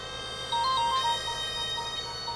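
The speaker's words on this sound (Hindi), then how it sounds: "एक किडनैपर का फोन आ रहा है।" A phone rings with an incoming call. The electronic ringtone plays a short looping melody up close over steady background noise, with no talk.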